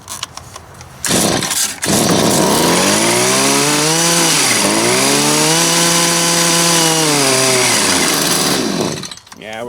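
A string trimmer or leaf blower engine running on full choke, pulling a loud, strained two-stroke whine whose pitch climbs, dips near the middle and rises again, with short bursts before it settles in.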